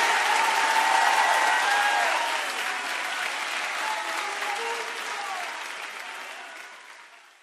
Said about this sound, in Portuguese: Aplauda o Senhor aí